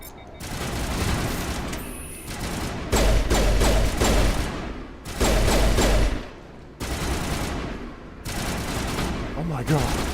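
Gunfire in a Mass Effect Legendary Edition firefight: loud bursts of rapid shots and heavy thumps arriving in clustered volleys, separated by short lulls, over a constant din of combat noise.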